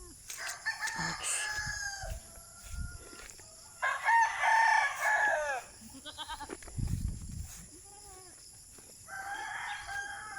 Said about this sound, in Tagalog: Yan yung mga manok.